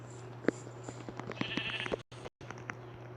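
A sheep bleats faintly in the Craftsman video game, with a few short calls over a low steady hum, mixed with soft clicks and hits from play.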